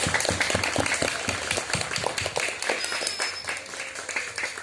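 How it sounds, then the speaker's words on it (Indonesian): Audience clapping at a village Indonesian Independence Day flag ceremony in Jepara: a lively round of many hands applauding, crisp and close, gradually thinning toward the end. "marilah kita aplaus tepuk tangan atas terselenggaranya upacara ini"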